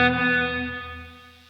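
A Strymon NightSky reverb pedal set to a short decay lets a sustained tonal chord ring out and fade smoothly over a second and a half, shimmering and alone.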